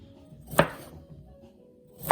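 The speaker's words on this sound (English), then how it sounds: "One of the last ingredients I need to cut up here is my fresh broccoli. And I'm just going to cut it into nice bite-sized pieces." A knife cuts fresh broccoli into bite-sized pieces on a board, giving two crisp, isolated chops about a second and a half apart, close and fairly quiet.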